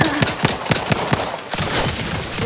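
Rapid gunfire in The Outer Worlds 2 shooter, a steady burst of evenly spaced shots rattling loud and close, breaking briefly before another dense volley resumes.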